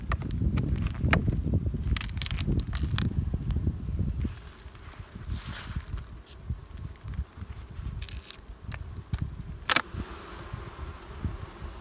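Honey bees buzz around an open hive of a packed colony during a fall inspection, a steady near hum with rustling handling noises and a few sharp knocks.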